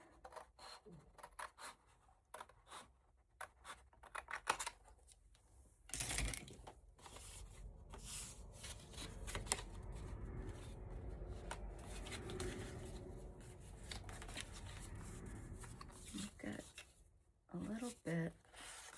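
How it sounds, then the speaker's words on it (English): Scissors snip through a piece of paper during a crafting session, with soft crisp cutting and rustling sounds coming in short bursts close by, mixed with handling noise and a person talking. "I'm just going to cut this down with scissors real quick."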